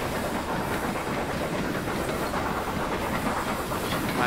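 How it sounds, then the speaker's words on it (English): Steam train hauled by a 4MT locomotive on the Weardale and Teesdale line, pulling away as its wagons stretch one after another, giving a steady, close rumble with rhythmic clanking and a hiss throughout. "Engine pulls away, that one pulls away, and then the whole train stretches."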